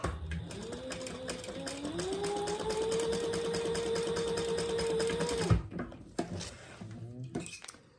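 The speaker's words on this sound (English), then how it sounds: "now we're going to stitch just under that second card slot" A sewing machine stitches a purse card slot with a rapid, steady mechanical chatter and whining motor for about five seconds, then stops, leaving faint handling clicks and rustles.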